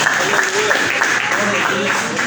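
Rhythmic clapping from a Pentecostal evangelical church congregation in Mogi Guaçu, Brazil, sustained and fairly loud through the whole stretch, with voices and singing mixed in.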